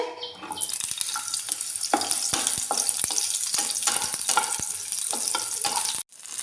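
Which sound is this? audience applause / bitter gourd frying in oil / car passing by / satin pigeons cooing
bitter gourd frying in oil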